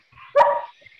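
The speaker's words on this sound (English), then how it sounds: "hear my dog?" A dog gives a single short bark, heard from a distance through a muffled microphone, in an otherwise quiet room.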